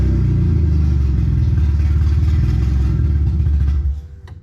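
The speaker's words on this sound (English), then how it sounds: "Let's take my foot off the gas and see what happens." A BMW E22 engine on a newly fitted ECU idles with a rough, uneven pulsing rumble after the throttle is released, then falters and stalls, the sound dying away near the end.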